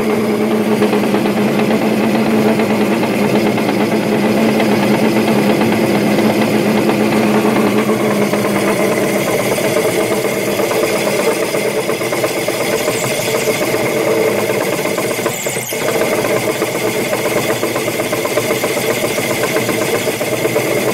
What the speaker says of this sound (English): So I'll show you how this works with this small lathe.